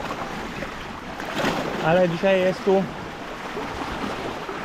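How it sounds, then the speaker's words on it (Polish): Large sea waves break along the shore at Siquijor in the Philippines as a steady, close wash of surf mixed with wind buffeting the microphone; a person speaks briefly partway through. "dzisiaj są tu dość duże fale"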